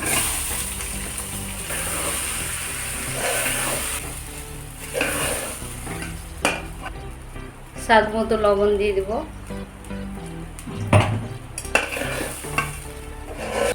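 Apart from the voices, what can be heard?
cashews, raisins and Gobindobhog rice frying in a pan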